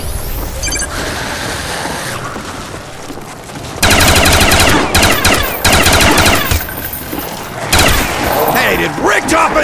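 Gunfire from Call of Duty Black Ops Zombies on the Kino map, with bursts of rapid automatic shots and loud blasts mixed with game music and effects, loudest in intense stretches.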